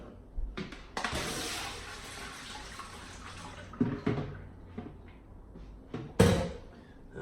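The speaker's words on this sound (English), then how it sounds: "I'm gonna go ahead and take and rinse those out real quick" Pickled red onions being rinsed and drained under a running tap, a short burst of splashing water near the mic with clunks and knocks of a colander or container around it, no talking.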